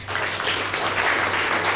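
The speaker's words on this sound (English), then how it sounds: "give the candidates a round of applause" A crowd applauding the candidates at a Yarra Council election forum for Lennox Ward, producing a dense, even wash of clapping that holds steady for under two seconds.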